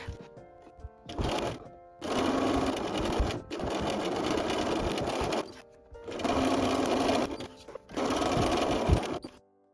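A sewing machine top stitching a tote bag, running in four close, loud bursts of rapid mechanical whirring separated by short pauses.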